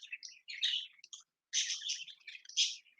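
Pet birds perched on a ceiling fan give rapid, high chirps and tweets in two close, lively bursts separated by a brief pause.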